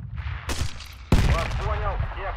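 Gunfire in the military shooter Project Reality: a faint distant shot, then a sudden loud close report that rings out, with voices talking over the aftermath.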